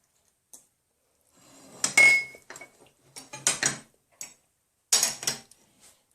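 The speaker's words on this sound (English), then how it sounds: "I'm just gonna cover this with some aluminum foil." Sheet of aluminum foil crinkled and pressed over a macaroni pie dish, giving several sharp, close crackling bursts with short pauses between them.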